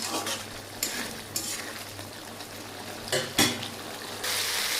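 Hilsa fish being stirred and sautéed in a pan, with a steady sizzle and a few sharp scrapes and clinks of a utensil against the metal, loudest near the end.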